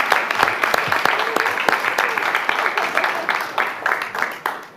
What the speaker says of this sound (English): go ahead and give him another round of applause